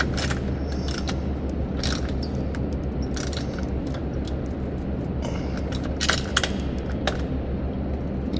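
Ratcheting clicks of a wrench tightening an awning onto its mounting bracket, sharp bursts in short irregular runs over a steady background hum, close by.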